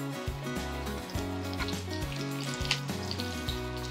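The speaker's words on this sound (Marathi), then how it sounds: "तव्यामध्ये तेल गरम करायला ठेवलेलं आहे, यामध्ये आधी ही वांगी घालूया" Eggplant pieces drop into hot oil in a pan and start sizzling, a steady bright crackle over background music that stays at an even level throughout.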